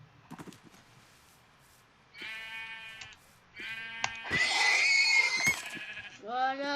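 A horse in a survival video game gives several loud, harmonic whinnying calls, rising in intensity toward the end, with short clicks and a voice mixed in.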